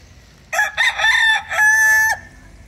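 A four-month-old McLean x Miner Blue rooster gives a single close, clear crow in several stepped bursts ending in a long drawn-out note, with no talking over it.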